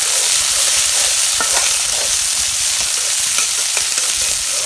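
Onions drop into hot oil already holding cardamom and cinnamon in a wok, giving a loud, continuous close-up sizzle with a few faint stirring taps.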